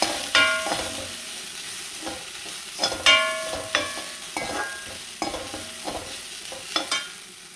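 Grated coconut stirred into chili powder frying in a pan, with repeated loud scrapes and clanks of a spatula every second or so over a low, continuous sizzle.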